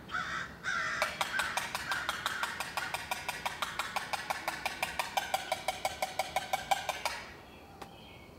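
A crow caws rapidly and repeatedly in a long, evenly spaced run of harsh calls, close and loud over a low outdoor hum in a backyard.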